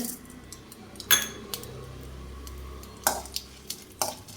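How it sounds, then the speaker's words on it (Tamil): Mustard seeds, chana dal and urad dal fry in hot oil with a soft steady sizzle, broken by a few sharp clinks of a metal spoon against the pan. "கடுகு பொறிட்டு"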